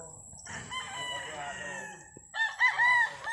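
Young gamefowl stags crowing and clucking at a farm below a mountain, one bird crowing loudly up close followed by another sharp crow, with soft clucks and faint voices behind.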